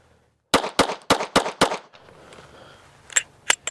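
Five rapid shots from a stock Sig P365 pistol with a macro grip and no compensator crack in quick succession, each one sharp and loud, followed by a few fainter clinks and pops.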